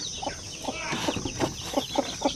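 Shamo aseel chicks chirping, a rapid series of short high peeps close by, several birds calling over each other in quick bursts.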